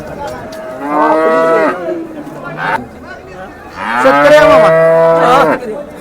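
A pregnant dairy cow at a cattle market in Sangola, India moos loudly and close by, two long lowing calls separated by a short pause, with faint background chatter.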